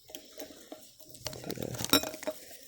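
Keys jingling and clinking in small metallic bursts during a wetland hike, faint and close, with scattered taps building to a denser rattle in the second half.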